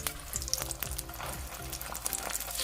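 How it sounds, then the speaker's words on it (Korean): Perilla leaf pancakes dipped in egg wash pan-fry in plenty of oil on a preheated pan, crackling and sizzling steadily up close with scattered pops and spatters. "예열된 팬에 식용유를 넉넉히 두르고 남은 계란물에 작은 깻잎을 한 장씩 적셔 팬에 놓고 그 위에 재료를 한 스푼씩 올려줍니다"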